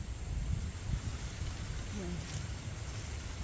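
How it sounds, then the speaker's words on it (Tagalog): Strong wind outdoors on farmland planted with rambutan trees: a steady low rumble of gusting air buffeting the microphone, fairly faint overall, with one brief spoken word. "yan ang lakas ng hangin"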